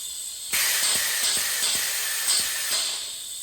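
Brake cleaner sprays in a loud, steady hiss from an aerosol can, washing brake fluid off a car's brake parts. It starts abruptly, holds for about three seconds with slight pulsing, and fades at the end, close up with no talking.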